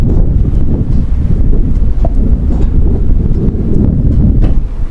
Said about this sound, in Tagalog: So ngayon ang hangin guys ay abagat.